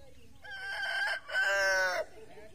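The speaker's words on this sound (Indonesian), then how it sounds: "Ayam yang selalu menemani saya ketika saya ada di Kelangon ya" A rooster near Merapi volcano gives one loud crow in two drawn-out parts, close at hand, against a quiet outdoor background.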